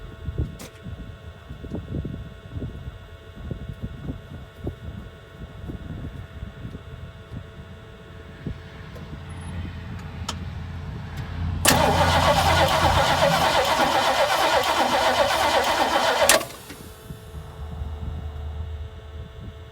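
A 1968 Ford Mustang that sat for eight years cranks and fires after a fuel shot with the choke open, a burst of loud engine roar for about five seconds amid quieter shop noise before dying away.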